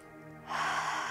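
A single strong inhalation in guided Wim Hof method breathing, starting quietly then rising into a loud, airy rush of breath close to the listener.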